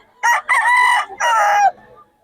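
A two-year-old Red Kelso rooster gives one loud, close crow of several sustained harmonic syllables lasting about a second and a half, with no talk over it.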